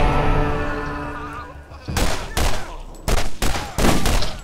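Gunfire in the video game Borderlands, with a shotgun among the weapons: rapid bursts of loud, close shots in several separate volleys after a stretch of quieter game sound.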